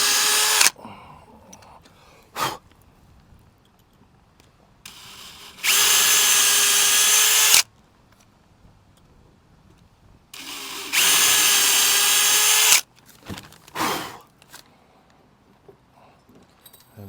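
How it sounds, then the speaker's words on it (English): A power drill boring 3.5 mm fixing holes during a Contessa 32 sailboat refit, two steady high whirring bursts of about two seconds each, separated by quieter handling clicks and knocks nearby. "I need to drill some fixing holes"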